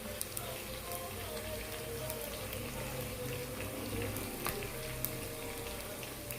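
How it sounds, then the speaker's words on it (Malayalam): Curry leaves drop into onions sautéing in hot oil for a mackerel curry with kudampuli, producing a steady hiss and sizzle with scattered crackles and pops. The frying noise is close and continuous, with no speech. "ഒരു ലേശം കറിവേപ്പില ഇട്ട് കൊടുക്കാം."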